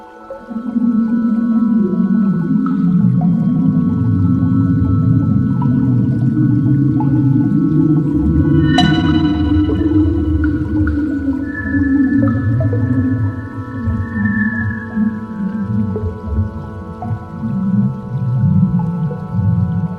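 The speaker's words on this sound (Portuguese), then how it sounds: "Ouça a seguir a sonificação da SS-433" NASA sonification of SS-433 image data: a sustained, dense low drone with layered steady tones, a sharp bright ping near the middle and a rising whistle-like tone afterward, playing continuously and fairly loud.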